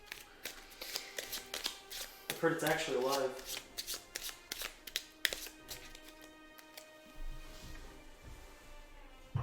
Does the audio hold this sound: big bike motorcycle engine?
no